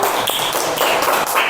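Children in a classroom clap their hands together in a quick burst of claps, moderately close and filling the room, with no talk over it.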